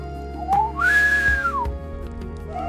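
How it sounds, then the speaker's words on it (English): A person whistles a single rising, held and falling note, clear and close, over a soft background of other tones. "Someone joins in with a whistle."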